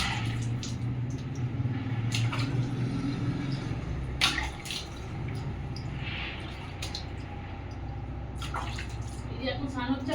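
A Labrador dog being bathed: continuous running and splashing water with scattered sharp splashes and clatters, while people talk over it throughout.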